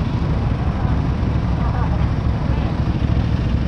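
Aprilia Tuono 660 motorcycle engine idling steadily at close range, a continuous broadband rumble with no breaks or revving.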